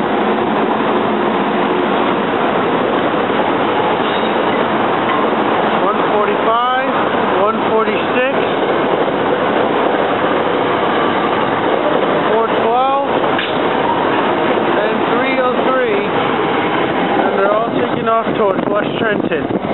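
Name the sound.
SEPTA R3 regional rail train passing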